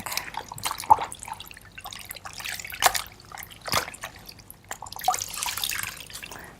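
Water dripping from a wet cold towel: scattered drips and small splashes at an irregular pace, close and fairly quiet, over a soft watery background, with no speech.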